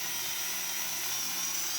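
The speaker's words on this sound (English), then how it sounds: "Let the drill bit do the work." A high, steady whine of a drill grinding continuously into metal, close and loud, with no pauses.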